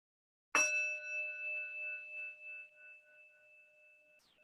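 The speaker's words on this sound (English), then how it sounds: "I'm going to start and end the practice with the chime of a bell." A single meditation bell is struck once at the start of a guided mindfulness practice, ringing out with a bright attack and a long, steady, pure-toned decay that fades slowly over several seconds in an otherwise quiet room.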